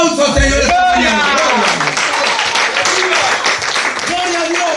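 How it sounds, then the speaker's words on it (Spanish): Congregation applause in a Spanish-language church service, loud clapping and cheering voices mixed with an excited shouted voice over the top, close and energetic. "Le damos un aplauso, Señor, esta mañana."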